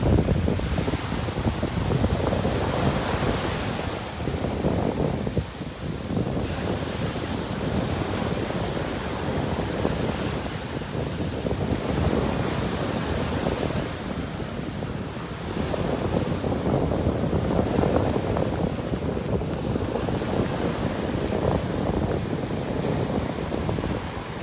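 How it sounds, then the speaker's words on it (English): Steady wind blowing across a North Naples, Florida beach beside the surf, a broad continuous rush that swells and eases in gusts, loud against the microphone with no talking. "Nice breeze."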